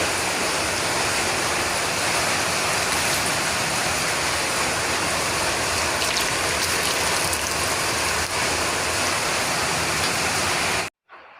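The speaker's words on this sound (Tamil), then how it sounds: "மழை, நல்ல மழை வந்துச்சு" Steady heavy rain pours outdoors in Jaffna, a dense, even hiss that continues without a break for about eleven seconds, alone with no voices, before cutting off abruptly at the end.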